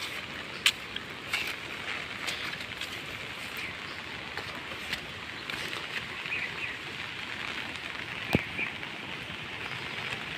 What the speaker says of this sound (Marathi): पाऊस धरतोय